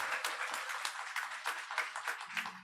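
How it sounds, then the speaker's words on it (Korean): A church congregation at a Sunday family worship service in Seoul claps in welcome, with scattered, distinct hand claps at moderate distance that stay fairly soft and uneven throughout. "여러분 박수 한번으로 환영의 메시지를 좀 전해주세요."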